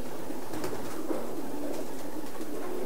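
Racing pigeons coo softly in a loft, a low steady murmur of several birds running throughout at moderate distance with no talk over it.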